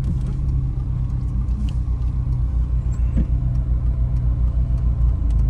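Car engine rumbling steadily during a driving lesson while the learner works the clutch and accelerator, a loud, close, continuous low drone with no talk over it.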